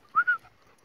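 A dog whimpers close by in two quick high whines back to back, with no panting audible afterward.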